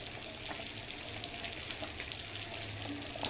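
Khichuri of gobindobhog rice and dal simmering in a pot as ghee goes in: a faint, steady bubbling sizzle with light spattering throughout, no voices.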